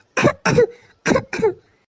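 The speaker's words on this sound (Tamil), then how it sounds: "யாரோ இருமுற சத்தம் கேட்டுச்சுல" Two pairs of sharp, close coughs from a cartoon character, each burst short and loud with brief silence between, nothing else heard.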